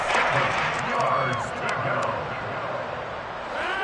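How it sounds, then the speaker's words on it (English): Stadium crowd roars and cheers steadily at a football game on PS5, a dense continuous wash of many voices, loud and close, swelling slightly as a big third down approaches. "the crowd getting into it as we come up on a big 3rd down"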